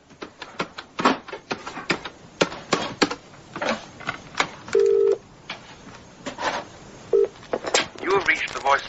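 Telephone number being dialed on a phone by the bed, with a series of short key taps and clicks punctuated by a couple of brief dial tones, heard up close with no one talking.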